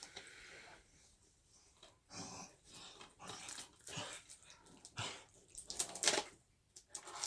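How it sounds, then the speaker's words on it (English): A pet dog growls and snorts in rough play, with irregular bursts of low rumbling and scuffling close by, separated by short quiet gaps. "My dog playing up."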